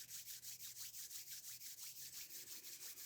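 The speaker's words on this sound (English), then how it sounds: "we open our eyes and rub our hands together" A pair of hands rub briskly together in a quick, even back-and-forth rhythm of soft swishing strokes, close and quiet, heard alone without talk.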